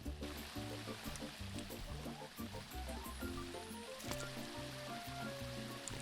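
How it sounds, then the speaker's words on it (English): Flowing water burbles faintly in a cave in Minecraft, a soft continuous stream beneath a steady, rhythmic background music bed. "I can hear water."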